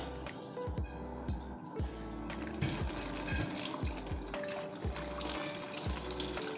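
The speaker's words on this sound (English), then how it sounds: "So I'm going to add this water." Water runs and splashes steadily into a cooking pot, with a few soft clunks and knocks along the way and no talking.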